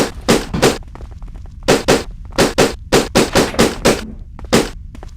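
Rapid paintball gunfire from the Die Hard Vendetta shooting game, a dozen or so sharp, loud shots fired singly and in quick pairs with short gaps, close and alone.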